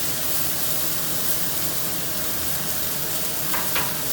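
Cèpes, onion and garlic fry together with tender aubergines in a pan, a loud, continuous close-up sizzle with a couple of brief bursts near the end and no voices.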